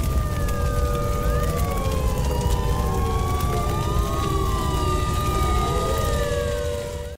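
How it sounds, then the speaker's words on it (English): Police sirens wail and sweep in overlapping tones with an air raid siren droning behind them, continuous and loud throughout this Silent Hill: Origins game scene, over a steady rain-like hiss. "There was an air raid siren behind the cop sirens."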